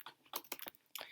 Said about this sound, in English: And I'll just type in style.css.